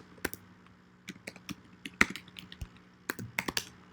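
Code being typed on a computer keyboard, with irregular clusters of crisp, close key clicks and short pauses between bursts, quiet and with no talking.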